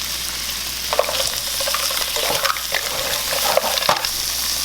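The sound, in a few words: frying onion and red pepper in a pan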